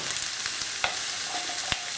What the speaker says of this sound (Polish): mogę wrzucić cebulkę. Będę ją podsmażała do momentu zeszklenia.